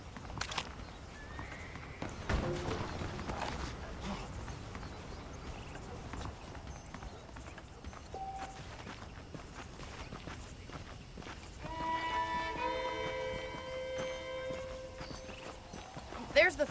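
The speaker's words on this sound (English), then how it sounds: "The horses are saddled up over here." Saddled horses walk with steady clip-clopping hooves in the video game Red Dead Redemption, played on PS5, the hoofbeats running throughout over game ambience, with voices and brighter tonal sounds joining near the end.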